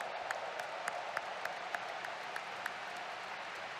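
A large congregation applauds steadily at a Billy Graham crusade 50th anniversary gathering, dense continuous clapping heard from a distance, with a few sharper individual claps standing out in an even rhythm.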